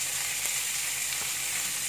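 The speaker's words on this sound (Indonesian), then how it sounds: "Lalu kita masukkan kucainya, kita tumis dulu kucainya dengan sayur asin yang batangnya aja ya." Chives stir-frying with salted vegetable stems in a hot pan, a dense, steady sizzle holding at an even loudness throughout with faint scraping stir sounds, no voices.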